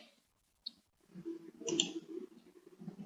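A single soft mouse click in a quiet room, followed by a low, faint murmur of background noise.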